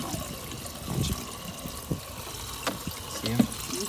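Albino pacu splash in a pond, several irregular watery slaps and trickles over a low background, the strongest burst near the end, with faint voices in the background.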